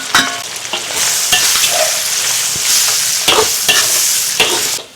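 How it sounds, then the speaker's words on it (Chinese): Spices and dried chilies stir-fried in red oil from chili bean paste, with bay leaf, cinnamon and Sichuan peppercorns, give a loud, steady close sizzle broken by repeated scraping strokes of a spatula in the wok. "干辣椒一起炒香。"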